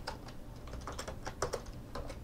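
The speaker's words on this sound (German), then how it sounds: "Die Tastatur ist eine ganz normale handelsübliche Tastatur." Typing on an ordinary off-the-shelf computer keyboard gives a quick, steady run of light key clicks, close and fairly quiet, with no voices.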